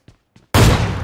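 Two players in a shooting video game fire at the same moment, producing a sudden loud burst of overlapping gunfire that rings out after two faint clicks and then slowly fades.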